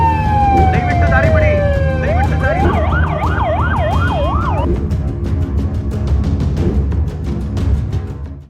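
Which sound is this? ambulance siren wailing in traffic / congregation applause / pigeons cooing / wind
ambulance siren wailing in traffic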